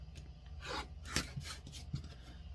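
Soft scraping of a rotary cutter or blade trimming quilt block fabric, a few brief strokes close by and quiet.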